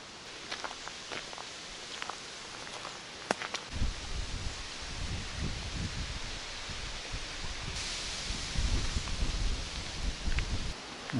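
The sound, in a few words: wind rustling outdoors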